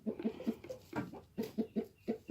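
Hens cluck in a close, rhythmic series of short, soft calls, about a dozen quick notes with a few louder squawks mixed in, with no talking.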